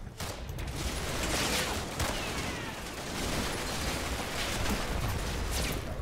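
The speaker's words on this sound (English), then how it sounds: "You know, a bit of 42 fire" Sustained MG42 machine gun fire in a Combat Mission World War II game, a dense continuous clatter of rapid bursts with distant crackling battle noise throughout.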